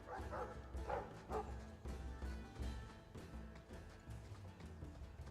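Dogs bark and yip repeatedly at moderate distance in Dragon Age 2's Mark of the Assassin content, a run of short, fairly quiet woofs over a low murmur of background sound.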